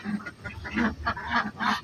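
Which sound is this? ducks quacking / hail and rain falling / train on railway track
ducks quacking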